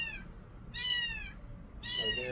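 A kitten trapped inside a wall gives three high, drawn-out meows, each rising and falling, muffled as if from behind the wall but clearly heard against low background noise.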